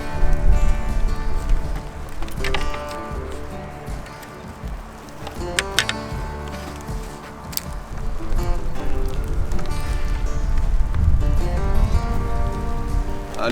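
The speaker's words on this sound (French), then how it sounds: "il pleut comme jamais" Heavy rain pours steadily at a lakeside or riverbank pike fishing spot, a dense, loud patter on surfaces that holds continuously with occasional sharper drops and thuds.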